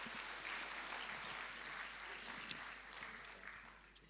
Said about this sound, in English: Could you please give Robin a round of applause